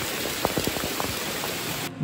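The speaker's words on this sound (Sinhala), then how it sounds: "ඔන්න බලන්න හොඳටම වහිනවා" Steady rain hissing continuously, with a few louder drops or taps standing out early on, before the sound cuts off abruptly near the end.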